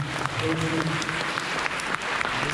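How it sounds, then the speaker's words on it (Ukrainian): Event-goers at an urban forum in Lviv give sustained, fairly loud applause, a thick steady patter of many hands with faint voices beneath. "Аплодуємо."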